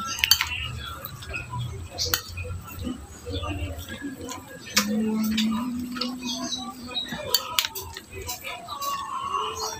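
A spoon scrapes and clinks against a bowl of dinakdakang baboy (pork kilawin) in quick irregular taps and stirs, with a steadier rubbing stretch in the middle and faint background voices.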